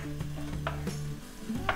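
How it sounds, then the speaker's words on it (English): Mixed peppers and chicken stir-fried in a pan for a Diet Coke chicken dish: a close, steady sizzle with a few scraping and clinking utensil strokes against the pan over a low background hum. "And stir fry for 5 minutes or until lightly browned."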